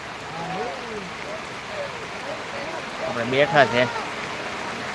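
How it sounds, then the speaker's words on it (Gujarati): Rain falls steadily outdoors as a constant hiss under someone talking close by in a calm voice. "ચાલુ થઈ ગયો છે આપણે અહીંયા વરસાદ"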